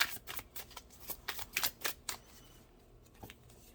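Tarot cards being shuffled and drawn in a pick-a-card reading, a quick run of crisp, close papery flicks and snaps that thins out into a few sparse ones.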